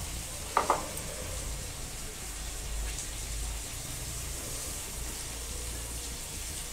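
Whole green chilies hit hot oil for a cauliflower and soybean curry, setting off a sharp crackle followed by a steady soft sizzle that carries on for several seconds.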